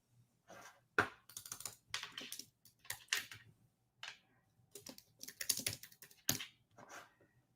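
Computer keyboard keys clatter in quick irregular bursts of taps and short pauses, close and fairly quiet, with a soft background hum and no clear talk.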